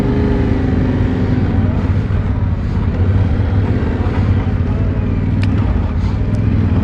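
Yamaha Tenere 700 Extreme adventure motorcycle riding along, its engine a loud steady low rumble with faint pitch shifts as the clutch and throttle are worked, and wind noise throughout.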